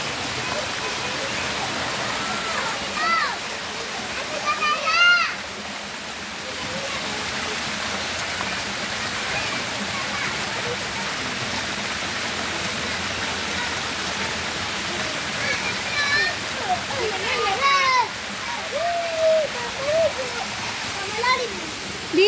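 Kawa Kawa Falls pours with a steady broadband rush of cascading water, with children's voices and shouts rising faintly over the roar at times.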